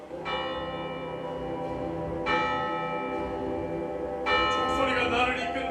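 A church bell tolls repeatedly during a stage performance of Macbeth, deep resonant strikes with long ringing decay, loud and steady, with faint other sounds beneath.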